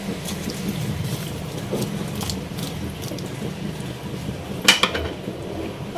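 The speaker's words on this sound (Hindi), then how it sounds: "इन सब चीज़ों को अच्छी तरह मिक्स कर लें।" Whole-spice meat curry being stirred in a pot with oil and water, cooking Eid-style degh gosht: steady clattering and scraping of a utensil against the cookware, with a couple of sharper clanks near the end.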